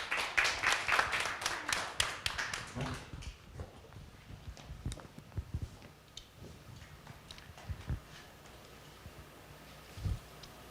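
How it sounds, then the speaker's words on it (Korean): Audience at a Korean lecture hall applauding, a dense burst of clapping at first that thins into scattered claps and fades away, moderately close within the room. "여러분 큰 박수 부탁드립니다"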